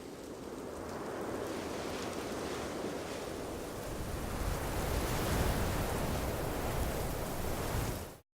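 Wind ambience loop from a beach survival video game, blended from three intensity layers: a steady, full broadband rush of air that swells slightly in the second half before cutting off, with no voices.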